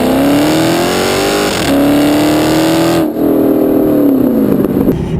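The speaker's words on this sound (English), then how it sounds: "You get that amazing sound and that amazing adrenaline rush whenever you stomp on the gas" A 2006 Chrysler 300C SRT8 engine revs hard under acceleration and climbs in pitch, loud and close, with a brief drop between gear changes and a rising, throaty roar.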